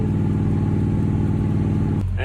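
A 1940 Lincoln Zephyr engine idles steadily at close range with an even, low rumbling pulse, holding constant for about two seconds before a sharp break and a brief voice.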